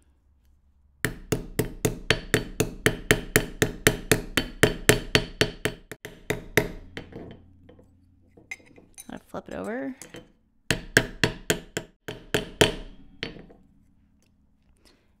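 Rapid, steady metallic hammer strikes on a silver spoon ring out in a long run, pause briefly while someone speaks, then resume in another quick burst.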